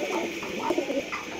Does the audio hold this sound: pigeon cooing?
yes